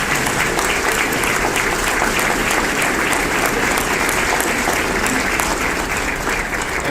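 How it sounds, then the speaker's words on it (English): Loud, steady applause from a large crowd at a college State of the College address, continuous clapping filling the whole stretch without pause. "receive a round of applause from the rest of us"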